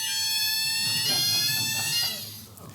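A UK lift alarm bell rings with a loud, steady, high-pitched sustained tone that fades out near the end, with a voice faintly under it.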